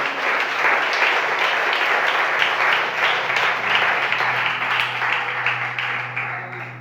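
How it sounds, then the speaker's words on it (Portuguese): A church congregation claps loudly together for several seconds, a dense, even roar of many hands that tapers slightly near the end, with no one talking over it. "Se você pode, aplauda o Senhor bem forte em nome de Jesus."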